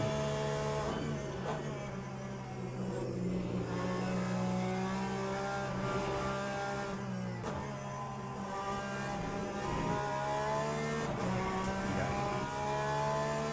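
Race car engines in the sim game Le Mans Ultimate, with a Ferrari among the field, drone steadily and loudly throughout, with rising and falling revs across gear changes and a brief dip around the middle.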